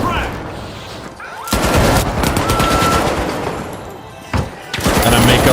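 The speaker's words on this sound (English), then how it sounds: "Sending a frag." Loud, sustained automatic gunfire from a competitive shooter video game rattles on in dense bursts, broken by a brief lull and a heavy bang that could be a frag grenade, with a player talking faintly underneath.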